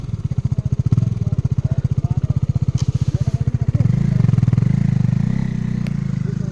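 A scooter idling nearby on a village road between Tangting and Krapu in Nepal, a loud steady low putter with a rapid even beat that revs up and thickens partway through, then settles back, with no voices.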